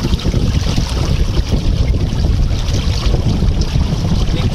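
A Contessa 26 sailboat under way in strong wind, with steady heavy wind buffeting the microphone and rushing water and waves against the hull, continuous and close, with no voices.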